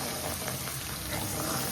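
Chilli garlic egg fried rice sizzles in a hot pan with a dense, continuous crackle and hiss, loud and close, with no voices over it.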